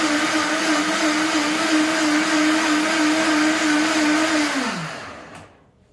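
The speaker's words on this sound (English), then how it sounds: "The regular blender, the Vitamix does an amazing job at making your smoothie very, very well blended and smooth." A Vitamix blender whirs steadily while blending a green smoothie, a loud even motor drone that holds for about five seconds, then winds down and cuts off near the end.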